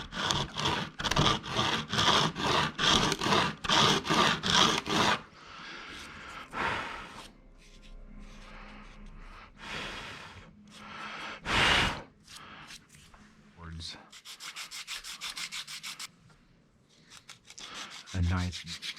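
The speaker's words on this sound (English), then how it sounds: "Back to the sanding." Rhythmic rasping strokes of sanding hardened super glue on a hard surface, close and loud, first in fast even passes, then slower, scattered scrapes with pauses.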